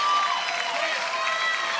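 A crowd at a professional pickleball match claps and cheers in a moderate, sustained wash, with some whistle-like tones rising and falling over it; no clear speech is heard.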